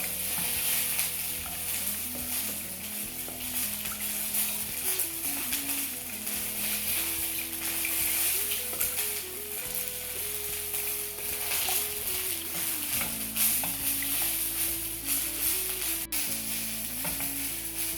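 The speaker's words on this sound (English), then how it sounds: "And now we're going to add in the stock slowly." Stock slowly stirred into a flour and onion gravy in a hot pan for bangers and mash, giving a steady, close sizzle and bubbling under a low sustained hum throughout, with no talking.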